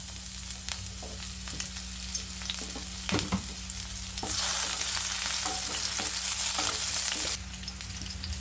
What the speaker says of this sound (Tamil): இது ஷாலோ ஃப்ரை பண்ணுறதுக்கு கொஞ்சம் எண்ணெய் ஊற்றிக்கோங்க